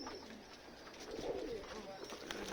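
Mourning doves coo softly at an evening pigeon feeding on a cold, windy day, faint calls set against wind noise and distant background sound.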